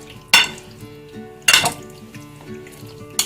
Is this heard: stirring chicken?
yes